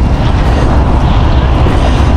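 Powerful Typhoon Gaemi wind in Taiwan roars loudly across the microphone, a heavy continuous low-pitched buffeting with small surging gusts.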